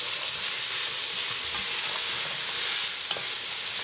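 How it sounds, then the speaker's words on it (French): A pot of carrot soup ingredients, with grated peeled vegetable just added to the carrots, stirred steadily by hand, a soft continuous scraping and sizzling hiss close by with no talking. "On mélange le tout."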